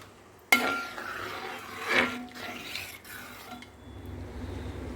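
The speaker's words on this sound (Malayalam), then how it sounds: "നമുക്കിതൊന്ന് കൈവിടാതെ ഇളക്കിയെടുക്കണം" A spoon clanks once against a pot, then scrapes and swishes steadily while adapradhaman payasam with coconut milk is stirred, quiet and close.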